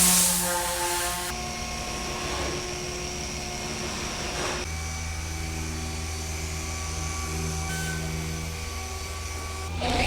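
A car polishing machine working on a detailed car, a steady whirring motor hum with sustained tonal bands, shifting load and pitch partway through, close and continuous.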